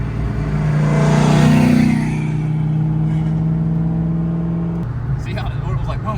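A car with a supercharged 302 engine revs hard and loud, the engine note climbing and then holding steady before cutting off abruptly. Voices talk underneath the engine.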